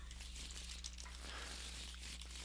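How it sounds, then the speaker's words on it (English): A deck of tarot cards being shuffled by hand, a soft steady papery crinkle and riffle running throughout, close and fairly quiet, over a low electrical hum. "So you shuffle the tarot cards and then you hand them out"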